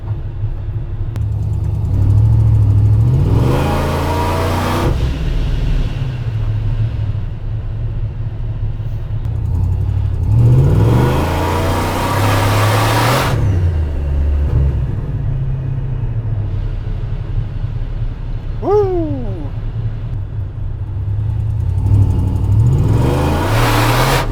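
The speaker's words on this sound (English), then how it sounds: "we just hit some kind of boost cut" A car engine revs hard on a dyno under boost, surging three times in long rising pulls with a steady low rumble between, each pull cutting off abruptly as boost or fuel cut hits.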